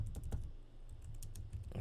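Keys clatter on a worn computer keyboard in quick uneven bursts, close and fairly loud, with a short lull in the middle before the typing resumes.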